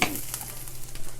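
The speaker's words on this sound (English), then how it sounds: "That sizzle." Soft, steady sizzling of vegetable spring rolls (Arab-style boureg) frying in a pan, with faint stirring or scraping sounds, close and quiet.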